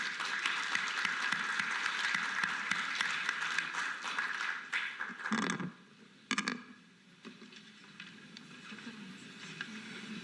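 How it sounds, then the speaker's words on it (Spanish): Steady applause from a crowd fills a conference hall, then fades into a few scattered claps and quieter background noise. "lo recibimos con un fuerte aplauso"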